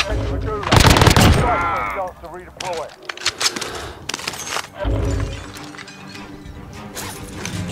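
Gunfire in the Warzone video game on Rebirth Island, loud rapid automatic bursts mixed with shattering and clattering game effects, in two stretches either side of a brief lull, with players talking over it.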